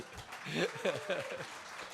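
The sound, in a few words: audience clapping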